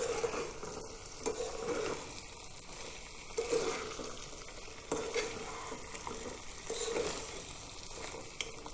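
Chicken pieces coated in sesame seeds are fried and stirred in a pan, giving a continuous sizzle broken by repeated scraping strokes of a spatula, fairly close and with no voices.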